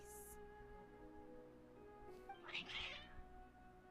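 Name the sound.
cats meowing in Genshin Impact video game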